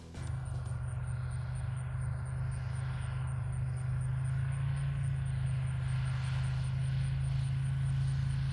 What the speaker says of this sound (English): that new Rotax 915 turbo is really quiet